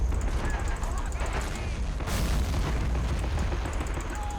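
Anti-tank guns firing in the World War II strategy game Men of War: Assault Squad 2 in a British HQ defense battle, dense rumbling booms and bursts over a continuous low roar of battle.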